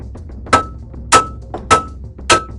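A metal hammer strikes the tie rod end of a Suzuki Wagon R MH22S four times in a steady rhythm, each blow a sharp, close, ringing metallic clank.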